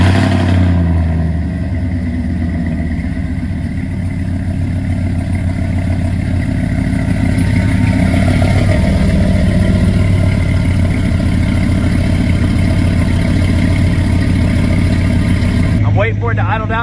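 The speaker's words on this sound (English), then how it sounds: "I'll give you guys a cold start of the current exhaust setup with the cam and the tune and the new exhaust." A cammed, tuned pickup truck engine with a new exhaust cold-starts after sitting for two days, cranking then catching into a loud, deep, steady rumble that holds at high idle close to the microphone.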